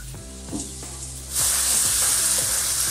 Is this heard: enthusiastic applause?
no